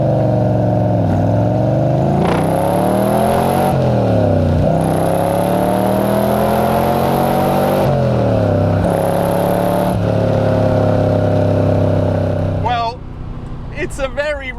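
DeTomaso Pantera GT5 pulling hard from inside the cabin, its engine rising in pitch through several gears with brief dips at each shift, loud and continuous before easing off near the end.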